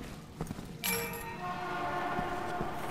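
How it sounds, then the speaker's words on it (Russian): A train rushes past in the Resident Evil 6 video game, a sudden loud whoosh with a high horn-like tone over steady rumbling. "Поезд едет."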